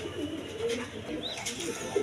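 Indian Kaldom pigeons coo through a busy, noisy background, their soft rolling calls close by and fairly steady, with a few brighter chirps breaking through.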